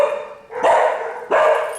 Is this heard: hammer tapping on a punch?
no